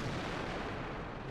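Artillery fire from a tank cannon in a video game, a dense, continuous rumbling blast that fills the short moment loudly with no voices over it.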